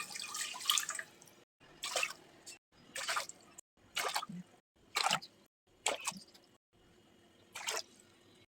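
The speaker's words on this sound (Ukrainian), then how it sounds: "зливаємо воду з помідорів" Water from a pot of tomatoes being drained for winter canning, poured off in a series of short splashing bursts separated by brief pauses, fairly close and quiet, with no speech.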